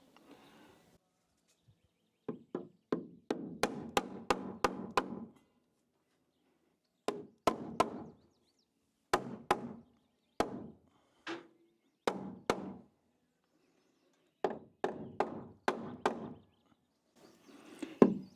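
Sharp hammer blows strike a wooden sub fascia board being driven into place on a roofline, coming in quick irregular bursts of several knocks separated by short pauses, loud and close with no talking.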